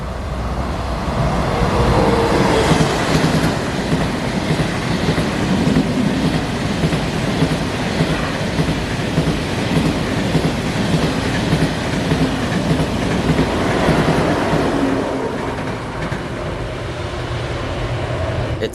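Trains running on shared Seoul rail lines, high-speed and metro services alike, a loud sustained rumble with rail clatter and screech that persists nearly twenty seconds before easing slightly at the end.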